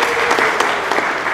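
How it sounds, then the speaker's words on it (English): Audience at a stakeholders meeting clapping for senior citizens, a short burst of scattered, lively hand claps from a crowd, brief and fairly close. "let's clap hands for our senior citizens"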